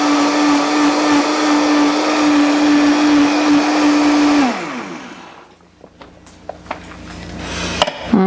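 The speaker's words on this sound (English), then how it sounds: "You can use an immersion blender for this, but I just find that it doesn't get it quite as smooth as the Vitamix does" A Vitamix blender purees soup with a loud steady motor whine for about four seconds, then spins down and stops, followed by a few faint clicks and kitchen knocks.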